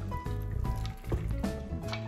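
Ice water pours and splashes over homemade butter in a bowl for rinsing, a close, quiet run of liquid gurgles, drips and soft squishing with no speech.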